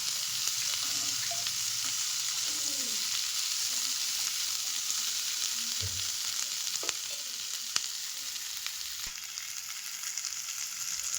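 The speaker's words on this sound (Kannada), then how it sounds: "ನಾನಿಲ್ಲಿ 4 ಗೆಡ್ಡೆ ಬೆಳ್ಳುಳ್ಳಿ ತೊಗೊಂಡಿದ್ದೀನಿ ಮತ್ತು 1 ಇಂಚಷ್ಟು ಶುಂಠಿ ತೊಗೊಂಡಿದ್ದೀನಿ. ಅದನ್ನು ಅಷ್ಟೇ ಇದೇ ರೀತಿ ಚೆನ್ನಾಗಿ ಫ್ರೈ ಮಾಡ್ಕೋಬೇಕು." Garlic and ginger frying in a pan, a steady close sizzle that hisses without a break, with occasional soft stirring scrapes and small clicks, no talking.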